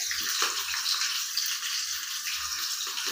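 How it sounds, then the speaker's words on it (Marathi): Green chillies frying in hot oil, a dense, steady hissing sizzle that stays loud and close throughout. "आता हिरवी मिरची तळून घ्यायची"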